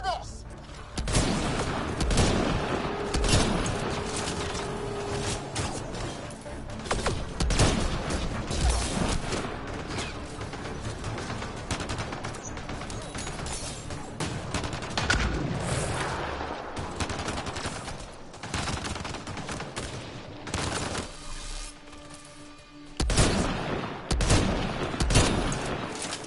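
Sustained gunfire in Mass Effect: Andromeda, dense bursts of automatic weapons and sharp shots cracking continuously in a chaotic firefight, with voices talking over the battle.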